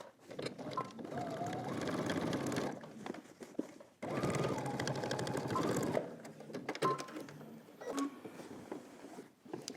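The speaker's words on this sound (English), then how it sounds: "we're going to go ahead and edge stitch along this folded edge, starting at our existing stitching" A sewing machine runs in two long continuous bursts, edge stitching along a folded fabric edge, then slows into shorter stop-start runs; close and steady, with no talking.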